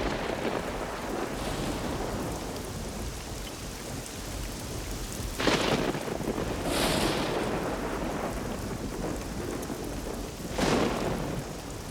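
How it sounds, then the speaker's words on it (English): Thunderstorm with heavy rain in the Kalahari, a steady dense hiss of rainfall over the land, broken by a few loud cracks and rolls of thunder, with no voices. "now a tremendous storm is brewing"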